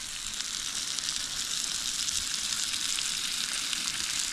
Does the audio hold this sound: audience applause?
no